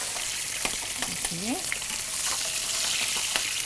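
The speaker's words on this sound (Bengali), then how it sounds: "আর এইগুলো আমরা এখন ভাজছি" Fish fries in an oiled pan with a strong, continuous sizzle and sharp scattered pops, recorded close. A brief, faint voice rises once in the background.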